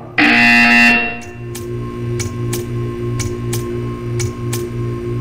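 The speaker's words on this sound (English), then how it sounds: "You will hear a buzzer. When you hear the buzzer, stare at the art." In the video game Portal 2, a loud harsh buzzer sounds once, then a softer rhythmic beeping repeats about every half second over a low hum.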